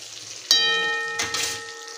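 Meat fries in hot mustard oil with a steady sizzle, broken by a sharp metallic ring and a second clatter of utensils in the pan.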